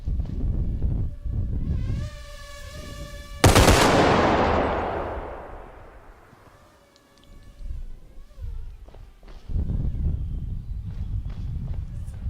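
Loud gunfire rings out outdoors, with a rapid machine-gun burst followed by a single sharp, booming shot that echoes and fades, then scattered shuffling and handling noises and further bursts toward the end.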